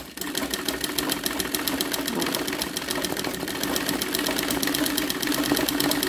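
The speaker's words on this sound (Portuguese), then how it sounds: "Vou começar aqui, ó." An embroidery sewing machine stitches a letter O at a steady fast rhythm, a continuous close mechanical whir with rapid needle pulses and no talking.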